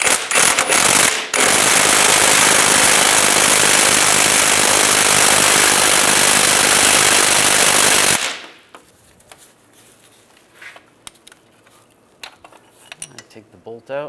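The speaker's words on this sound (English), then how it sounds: "Now using an 18mm socket, we're gonna take that bolt out" An 18mm socket on an impact or air tool rattles loudly and continuously for about eight seconds, removing the starter bolt on a 1998-2010 Volkswagen Beetle, then stops abruptly, leaving faint clinks and handling noises.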